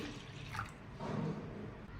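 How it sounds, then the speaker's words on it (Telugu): Quiet splashing and trickling of water being poured onto urad dal and white sorghum, with a soft gurgle midway, close by and faint overall. "మినపప్పు ఇలా వాటర్ పోసుకోవాలండి"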